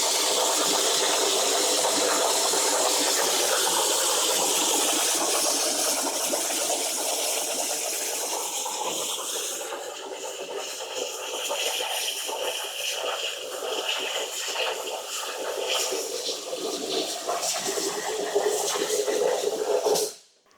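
An STV CNC Pro plasma water table shifts position with a steady, loud, broadband rush of sloshing and splashing water and a machine hum underneath, lasting continuously until it cuts off abruptly at the end.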